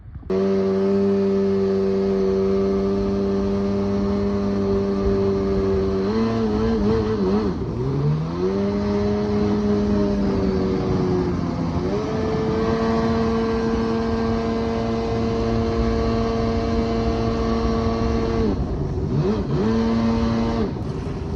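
A jet ski engine runs rough out on the water in winter, droning loudly and close with a wavering pitch that dips and surges several times, never settling into a smooth tone.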